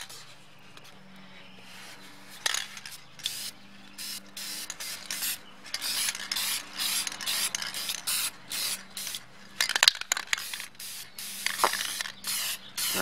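Acrylic finishing spray hisses from an aerosol can onto a stamped card in a series of short, repeated passes, soft and close, with brief pauses between bursts.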